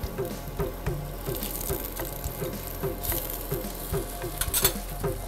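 Food frying in a pan after being flipped, browning on the second side until light golden, with a quiet steady sizzle and scattered crackles and small pops throughout, no voices.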